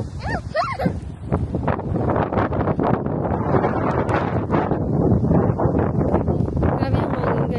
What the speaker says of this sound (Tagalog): Grabe yung hangin, guys.